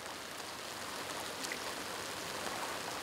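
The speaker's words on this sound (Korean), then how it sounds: "9, 10월 2달간의 우기 때는 하루에도 몇 번씩 비가 쏟아진다" Heavy tropical rain pours down steadily in Hainan during the rainy season, a dense, continuous hiss of drops on surfaces with no voices.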